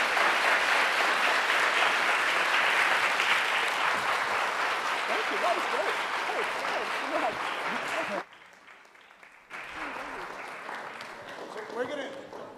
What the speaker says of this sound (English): in a warm round of applause